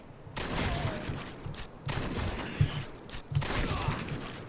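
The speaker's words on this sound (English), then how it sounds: "so that's the sniper rifle at work" A sniper rifle firing in the video game MRO, several dense bursts of crackling shots separated by short gaps, set against game background noise with no voices.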